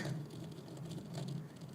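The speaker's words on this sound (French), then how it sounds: "électrisée par cette petite pluie froide qui pétille sur sa peau rose." Light, cold rain patters steadily and softly, a continuous faint hiss of drops with no voices.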